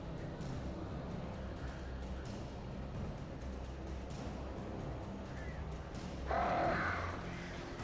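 Crows caw in the Alan Wake video game. The calls are rough and rasping, with one distinct loud caw near the end. They sit over a dense, steady ambient rumble.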